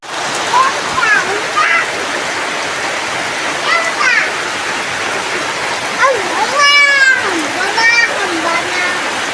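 Hands slap and splash in water pooled in a courtyard, a continuous wet, rushing spatter heard up close while children's voices call out over it.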